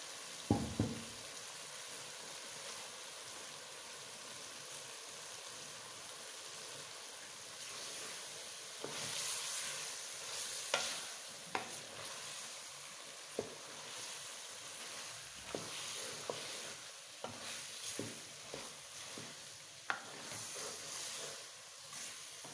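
Chopped capsicum (shimla mirch) goes into a pan of chicken and sizzles quietly. A spoon or spatula scrapes and knocks against the pan in scattered strokes over the faint, steady frying hiss.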